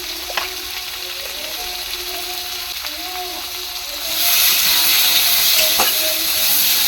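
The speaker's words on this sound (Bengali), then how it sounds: "তেলটা গরম হয়ে গেছে আমরা আলুগুলো দিয়ে দেবো ওগুলো ভালো করে ভেজে নেব" Potatoes frying in hot oil in a pan, a steady sizzle that swells louder and brighter partway through, with faint clinks of a utensil and no talk.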